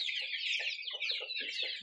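Young black Andijan-breed chickens and roosters chirp in a high, constant stream, with short low clucks scattered through; the flock sounds faint and somewhat distant, with no speech.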